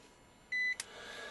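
A Kaiweets digital multimeter gives a single short, clear electronic beep on continuity test, followed by a brief click in a quiet room.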